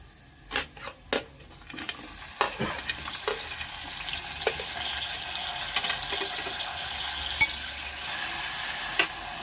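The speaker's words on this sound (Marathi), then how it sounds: "इथे आपलं लसूण देखील छान शिजले, आता आपण याच्यामध्ये टॅमॅटो घालूया।" Tomatoes go into garlic frying in a pan for dal, giving a sizzle with scattered stirring clatters and a few sharp clinks near the start, then steady frying under occasional utensil taps.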